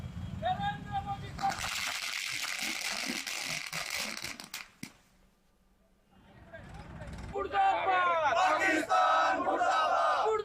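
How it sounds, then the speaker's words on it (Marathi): A crowd in Buldhana cheers and chants slogans in celebration, loud roaring voices for a few seconds, a brief lull, then chanting surging back strongly near the end. "बुलढाण्यातील नागरिक जल्लोष साजरा करतात"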